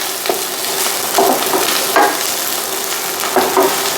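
Onions fry in a pan with oregano, a loud continuous close sizzle broken by a few soft stirring scrapes, with no talking.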